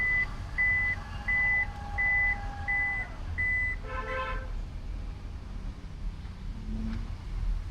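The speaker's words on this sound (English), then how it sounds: "Also gets a power tailgate." A Toyota Innova Hycross power tailgate gives a run of repeated electronic warning beeps while it moves, with a motor whine under them. Then comes a brief chime and a soft thud as it closes, in a quiet setting with no talk.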